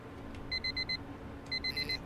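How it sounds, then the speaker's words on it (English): A digital alarm clock beeps in A Clockwork Ley Line, a visual novel: two bursts of four quick electronic beeps each, loud and crisp over a soft background bed. "My eyes drowsily open to the sound of the alarm."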